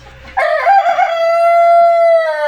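A Cream Legbar rooster gives one loud, close crow that starts abruptly and holds a long, drawn-out final note.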